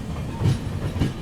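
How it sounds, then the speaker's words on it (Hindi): The Agartala LTT Mumbai AC Express rumbles onto a loop line in a valley, heard from on board: a steady low rolling drone with a couple of soft wheel clacks. "अब देखो लूप लाइन पर लगाया जा रहा है अपनी ट्रेन को यहाँ पर फिर से एक क्रॉसिंग के लिए।"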